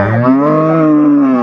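A dairy cow or calf at Raniganj cattle market in Dinajpur gives a loud, sustained moo up close, one steady bellow with no voices over it.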